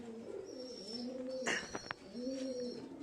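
Kalasabuj Giribaz pigeons in a loft coo in soft, rolling, repeated phrases close by, interrupted midway by a brief sharper chirp and flutter.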